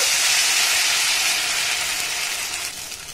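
Rice-flour batter for chitoi pitha sizzles in a hot pan on a gas stove, a steady bright hiss close up that slowly eases over a few seconds, with no voices.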